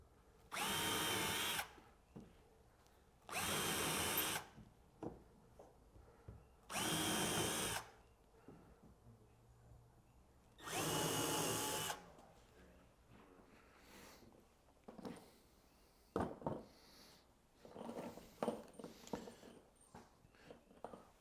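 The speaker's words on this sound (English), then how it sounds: "pre-drill our holes, screw these cleats to the wall" A power drill whirs in four loud, evenly spaced bursts of a second or two each while driving screws through French cleats into a wall, followed by quieter clatter and handling noises.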